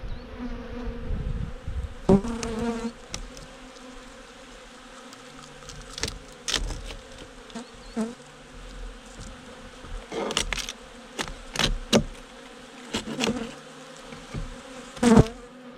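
Honeybees buzz steadily in a swarm around an open hive, with brief louder passes as individual bees fly close, interrupted by occasional clicks and knocks.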